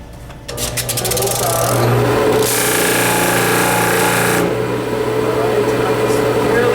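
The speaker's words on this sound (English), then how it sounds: "notice how I'm only still sanding on the appropriate part of the disc" A disc sander works on wood, a loud steady motorized grinding roar with a brief rise as the piece presses against the disc, running continuously close by.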